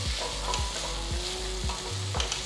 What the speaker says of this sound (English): Saute it for about 3 to 4 minutes till they're nice and mushy.